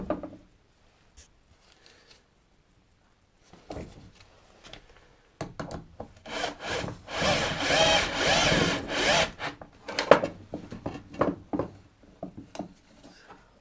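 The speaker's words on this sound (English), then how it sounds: "So I just give them a quick clean up with a rasp and sander" Wooden parts for a toy carriage are cleaned up with a rasp and sander: after a few quiet taps, bursts of dry scraping and rubbing build into a sustained, close abrasive rasping, then break into shorter strokes.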